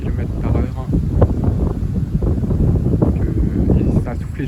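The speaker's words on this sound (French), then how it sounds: "Il y a des rafales qui atteignent les 75 km/h." Strong gusts from storm Darragh, December 2024, reaching about 75 km/h, roar and buffet close against the microphone as one continuous rumbling wash of wind.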